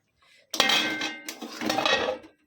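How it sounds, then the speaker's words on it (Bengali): A metal lid comes off a cooking pot of potato, pea and paneer curry with a sharp clank followed by scraping and rattling metal, then a second clattering burst, close and alone. "এবার ঢাকাটা দিয়ে দিচ্ছি, ঢাকাটা খুলছি।"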